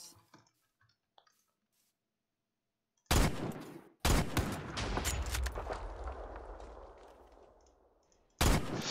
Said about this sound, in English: he chucked a grenade